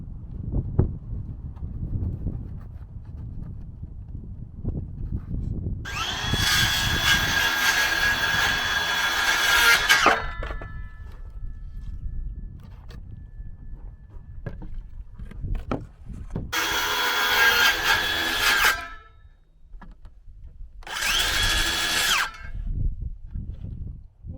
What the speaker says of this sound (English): I'm gonna need to start sawing it from the bottom up